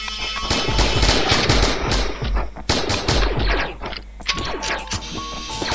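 Dense, continuous gunfire in the video game Lost Saga, with rapid bursts and crackling shots, loud and sustained, with occasional electronic tones in the background.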